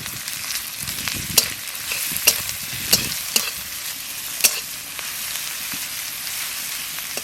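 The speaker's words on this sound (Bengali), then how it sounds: "পেঁয়াজ রসুন ভাজা হয়ে গেছে" Onion and garlic paste frying in hot oil with bay leaf, a steady close sizzle broken by several sharp scraping stirs of a spatula against the pan, with no talking.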